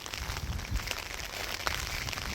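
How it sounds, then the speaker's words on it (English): Steady rain patters outdoors, a dense, continuous hiss of drops with faint gusty rumble underneath. "It's raining."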